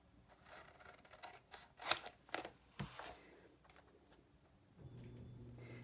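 Scissors snip off the corners of paper for a folio, a few close, crisp cuts in quick succession in a quiet room, followed by a low hum.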